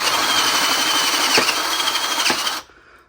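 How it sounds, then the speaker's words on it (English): A power drill whines loudly and steadily for a couple of seconds, its pitch dipping slightly, then stops abruptly, drilling a hole during a fuel injection conversion on a 1981 Honda Goldwing GL1100 motorcycle. "first we drill the hole straight in"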